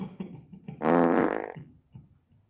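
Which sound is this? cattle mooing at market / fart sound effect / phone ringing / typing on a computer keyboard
fart sound effect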